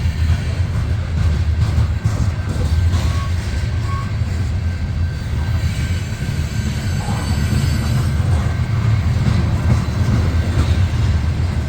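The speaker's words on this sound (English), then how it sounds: "This coal train's got a lot of unique coal hoppers." A CSX coal train of loaded hopper cars rolls past at night in snowy weather, a continuous low rumble of wheels on rail with faint squeals, steady and close throughout.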